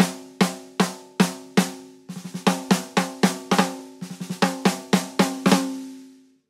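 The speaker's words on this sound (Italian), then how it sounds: "Sentite il rullante senza riverbero?" Dry snare drum with no reverb, struck in four evenly spaced loud hits followed by quicker rolling patterns, each crack short and cut off cleanly, played alone.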